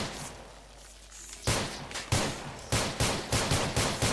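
An AUG rifle fires in modded Minecraft, loud and close: after a quieter lead-in comes a string of evenly spaced shots that quicken toward the end.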